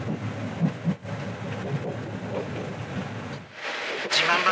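A train departs Takeno station on the San'in Main Line, heard from on board as a steady low rumble with a couple of soft bumps and a rising rush of noise near the end.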